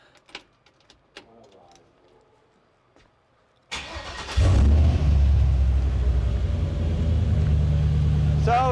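The Blue Banshee car cranks over after a few quiet clicks and knocks, then its engine starts and settles into a loud, deep, steady exhaust rumble that carries to the end.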